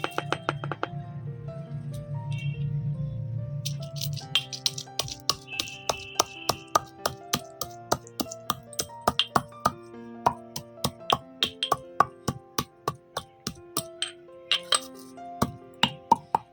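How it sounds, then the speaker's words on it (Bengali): Whole fried spices being pounded in a mortar and pestle for hing kachori: a steady run of sharp, ringing knocks, close and fairly loud, picking up pace and continuing alone after a soft, muffled opening. "এবারে এই ভেজে নেওয়া গোটা মশলাগুলোকে আমি হামানদিস্তায় গুঁড়ো করে নেব।"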